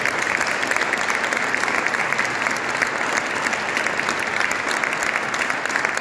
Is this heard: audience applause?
yes